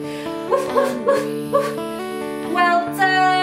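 Young children in a toddler yoga class imitate a dog barking: a quick series of voiced, yippy 'woof' sounds, several overlapping, close and fairly loud.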